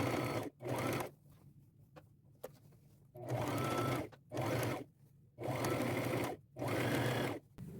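A sewing machine runs in several bursts of a second or so, stopping and starting between passes as it stitches a quarter-inch seam down two layers of fabric, close and loud.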